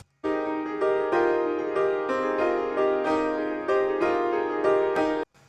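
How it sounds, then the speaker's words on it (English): A piano plays a short phrase of sustained notes and chords, clear and close, with each new note striking over the ringing of the last. "let's load this piano sample."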